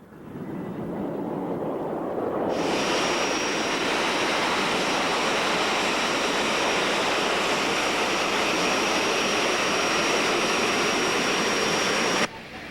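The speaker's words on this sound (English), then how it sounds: "Now we've come to a busy airport where we're going to see some much larger jet airplanes" Large jet airliners at a busy airport near Los Angeles, California, make a loud, steady roar that holds for about ten seconds before cutting off abruptly.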